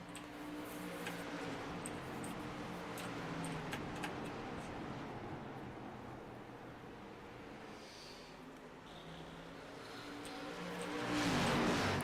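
Street stock cars race on the 5/8-mile oval at Nashville Fairgrounds Speedway, with a steady, continuous engine roar that swells louder near the end as cars pass closer.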